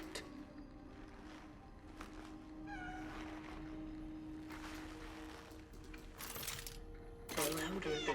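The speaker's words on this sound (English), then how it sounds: "The louder the meow," A cat meowing in the video game Cronos: The New Dawn, a few short rising meows over a low steady hum and ambient game noise, with bursts of louder clatter near the end.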